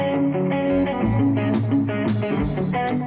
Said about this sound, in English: at home, I record a scratch track.